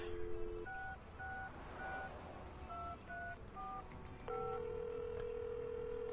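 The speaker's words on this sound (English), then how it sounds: "You pick up the Puhelin. phone, and to your delight, you get a dial tone." In the Leisure Suit Larry computer game, a telephone gives a quick series of electronic touch-tone beeps followed by a steady, continuous dial tone, clean and moderately loud.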